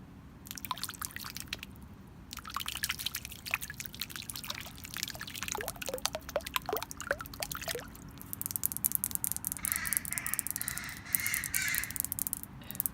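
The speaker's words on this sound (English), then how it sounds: "That's a loud bird, but it sounds cool." A bird calls out repeatedly with loud, harsh cries, in scattered bursts over a quiet outdoor background.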